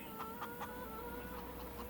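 Chickens cluck in short repeated bursts on a large poultry farm in Farming Simulator 25, soft and steady over a low background hum.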